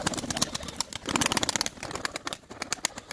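Short-beaked Iraqi Mosul fancy pigeons, close by, with soft cooing and fluttering wing sounds over a busy, rustling background.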